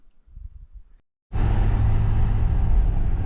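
A car drives along a road in the Kootenays of eastern British Columbia, a steady low rumble of engine and tyre noise with wind starting abruptly after a brief quiet moment, close and constant.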